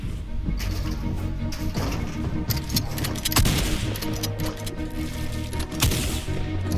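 Rapid bursts of gunfire in the Fortnite video game, sharp repeated shots layered over a dense, steady bed of game sound that continues throughout.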